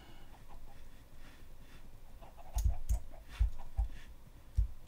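Chickens cluck in a video game, soft clucks joined by a few low thumping footsteps or taps.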